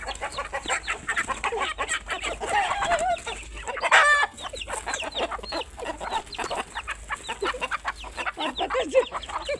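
Rooster and chickens at close range, a dense run of repeated clucks with a short crow rising near the middle, continuous and fairly loud with no talking.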